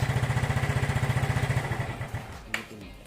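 Motorcycle engine fitted with a universal kill switch, running with a steady pulsing idle that slowly fades as it dies on its own, followed by a brief click.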